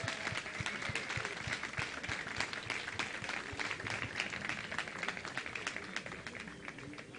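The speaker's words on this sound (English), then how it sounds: "Very big applause for Philippo from Argentina" Audience at a startup demo day applauding the most investable business winner, a continuous patter of many hands clapping at moderate distance, fairly quiet and even throughout.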